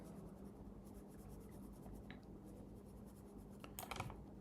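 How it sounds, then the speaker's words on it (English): Rubbing and scratching against a board as writing is erased, faint and close, with a brief squeak and a short rough burst near the end. "Let me just erase all this."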